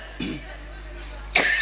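Two short, throaty coughs from a person with a flu-season tickle in the throat, the first softer and the second sharper and louder, separated by a brief quiet pause.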